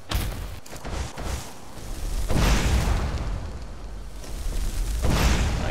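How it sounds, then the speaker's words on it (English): Fiery incinerate spell blasts hitting a goat in Skyrim, two or three loud booming bursts with rumbling roar between them, close and alone without talk. "Seems kind of cheap to use incinerate on a goat, insta kill, blow him away."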